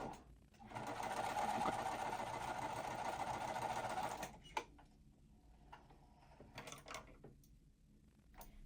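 A sewing machine stitches quilt pieces in a fast, steady burst for about four seconds, then stops; afterward only faint handling clicks and small knocks follow at low level, with no voices.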